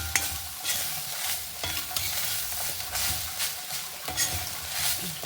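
Grated coconut and masala roasting in a pan, with a soft steady sizzle and repeated scraping stirs of a spatula across the metal, close and fairly quiet, no voices.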